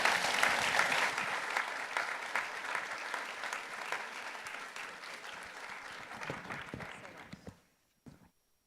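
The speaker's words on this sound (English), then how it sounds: "Please let's give a big round of applause again to Kate Gallego and Daniel Valenzuela." Sustained audience applause fills a luncheon room for several seconds, steady and dense clapping from many people, then tapers off abruptly near the end with a brief final burst.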